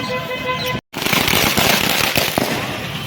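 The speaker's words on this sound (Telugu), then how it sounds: "చూడండి క్రాకర్స్." Rapid, dense crackling of firecrackers bursting close by at a street celebration near an old bus stand, loud and continuous after a brief silent gap.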